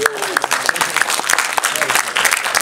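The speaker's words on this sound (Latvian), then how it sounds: "Ļoti vāji aplausi" Thin, sparse applause from a small audience at a film presentation before a screening, with scattered claps close by and a voice talking over them.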